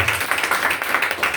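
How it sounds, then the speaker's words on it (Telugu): A church congregation claps loudly in steady, rhythmic unison, a close, dense wall of hand claps throughout. "గట్టిగా చప్పట్లు దేవుని మహిమపరచండి."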